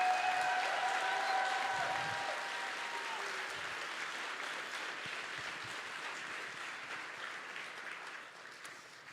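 A crowd at a Texas youth summit applauds Governor Greg Abbott: steady, full clapping from a large audience that holds loud for about two seconds, then tapers slowly while continuing throughout.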